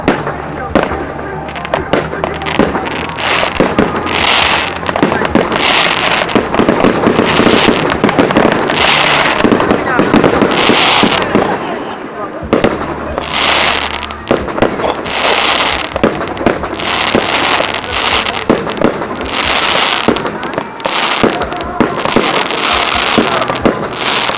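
Festival fireworks burst in rapid, loud volleys of bangs and crackles, nearly continuous with a short lull midway, as people talk nearby.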